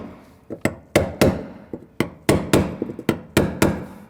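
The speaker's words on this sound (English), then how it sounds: "I'm going to go ahead and just kind of tap this." A brass punch taps on the rusted lock ring of a fuel pump transfer unit on a 2010-2019 Ford Taurus 3.5L V6, giving about a dozen sharp, close metallic knocks in an uneven rhythm with no talking.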